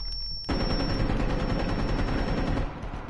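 Rapid automatic gunfire in the tactical shooter game Rainbow Six, a dense, loud burst of shots that starts abruptly about half a second in and keeps going almost without pause.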